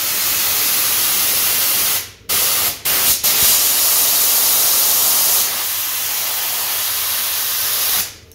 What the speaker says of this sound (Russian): Вот смотрите, вот я буду дуть вот сюда.